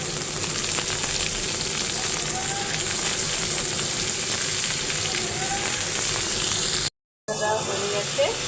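Onions and vegetable bhaji frying in a pan, giving a loud, dense, continuous sizzle and hiss with occasional stirring, cut by a brief moment of silence near the end.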